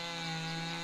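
Chainsaw cutting a spruce tree in the farming game Farmers Dynasty, a steady buzzing engine drone with no pauses, heard up close and alone for under a second.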